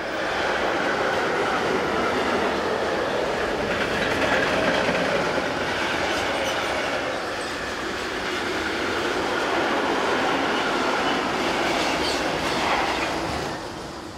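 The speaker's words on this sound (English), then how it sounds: "Heading south towards the camera on the morning of the 13th of October 2016, is number 185371, on train number EZ51471, a mixed freight from Gremberg to Nuremberg" Mixed freight train hauled by electric locomotive 185371 passes on a German main line, a steady loud rumble and rattle of wagons rolling by continuously, swelling slightly and easing near the end.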